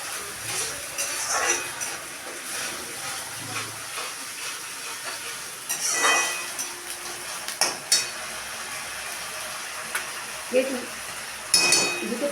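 Onion paste fries in a pan with a continuous close hiss and sizzle, broken now and then by brief stirring scrapes and clinks.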